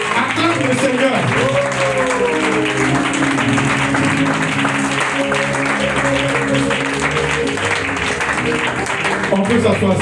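Applause from a church congregation during a worship service, a dense, steady wash of clapping that runs throughout, mixed with sustained music and voices.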